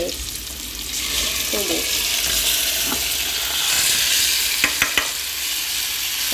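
Basmati rice tumbles into a hot pan and is stirred for peanut rice, giving a steady close sizzle and frying hiss with soft scraping, a few sharp spoon taps near the end and a brief voice speaking.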